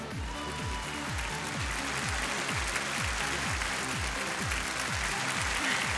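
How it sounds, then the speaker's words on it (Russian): Audience applause in the final of the Miss Russia 2015 pageant, a steady wash of clapping that runs through the whole stretch beneath loud, pulsing stage music with a thumping beat. "И музыка уже не заглушает ваши аплодисменты."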